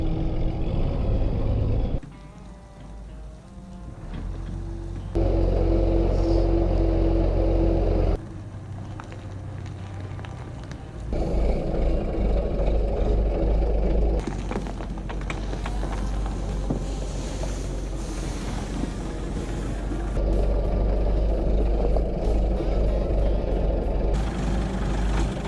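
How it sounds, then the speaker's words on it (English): A Volvo F87 truck rumbles through a short test drive and pulls up to park, its deep diesel engine droning in long stretches that drop to quieter idling between bursts, with some wind buffeting on the microphone. "I take it for a short test drive and park it in a better spot"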